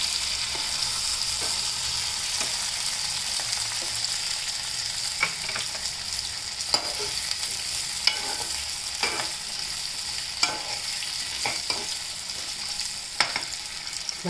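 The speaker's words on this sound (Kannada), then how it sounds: "ಆದಮೇಲೆ ನಾನು ಬದನೆಕಾಯಿ ಹೋಳು ಹಾಕ್ತಾ ಇದ್ದೀನಿ." Brinjal (eggplant) slices frying in a pan give a steady, close sizzle with scattered clicks and scrapes from stirring throughout.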